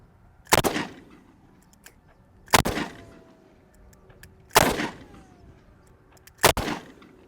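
Four loud, sharp revolver shots fired double action, evenly spaced about two seconds apart, each with a short ringing decay outdoors and no talking.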